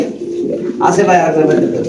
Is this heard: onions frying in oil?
no